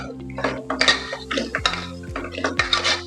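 A spoon stirs mutton pepper fry with garam masala in a metal pan, giving repeated scraping clinks and clanks in an uneven rhythm, close and fairly loud with no talking.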